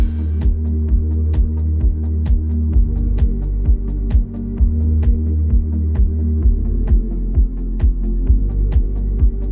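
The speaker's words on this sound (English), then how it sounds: "Now we're done with the grinding of the cylinders." Cylinders of a BMW E28 535i engine block being ground: a loud, steady machine hum pulsing in a regular throbbing rhythm, with sharp ticks repeating throughout.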